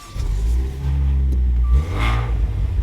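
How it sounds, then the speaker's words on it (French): A Maserati Levante S SUV with a Ferrari-built 430 hp V6 petrol engine revs, its deep exhaust note surging and settling in a couple of throttle blips, heard close with no talking. "Ça aurait été dommage de se priver d'une telle sonorité moteur offerte par la version S, forte du V6 de 430 chevaux"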